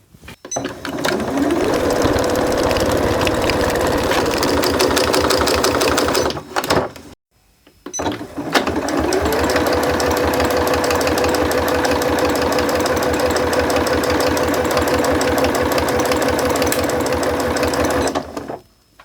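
A sewing machine stitches a zigzag finish on an insulated bum bag. It runs in two long, fast, steady bursts of rhythmic mechanical whirring with a brief pause between them.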